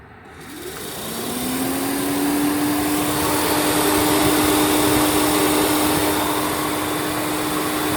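Electric cooling fans on a Chrysler Town and Country spin up and then run steadily with a loud, even whoosh. A faint rising tone settles into a steady whine, and the fans keep running with the engine and ignition off.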